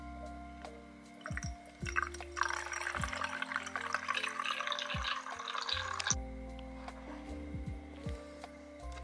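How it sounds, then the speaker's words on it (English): Liquid poured for festive bauble cocktails made with raspberries and lemonade, a steady trickling pour lasting several seconds between a few clinks and knocks of glassware. "So this is us doing our pouring."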